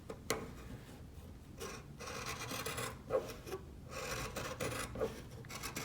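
Scissors trim the fabric seam allowance of a drawstring bag in a series of soft, close snips and rasps, quiet, with no talking.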